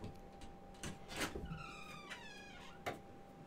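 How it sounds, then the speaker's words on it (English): A cat in the game Planet Coaster meowing, a couple of short mewing calls and a longer wavering meow among soft clicks and background game sounds, fairly faint. "Why is there cats in my room now?"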